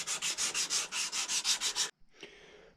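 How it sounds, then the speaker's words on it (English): A wooden plug for a powder horn is sanded by hand in about eleven even, rhythmic back-and-forth rasping strokes, close and clear, ending abruptly with a few soft handling sounds. "I'm going to sand the plug a while and get that perfectly sanded before I install the staple."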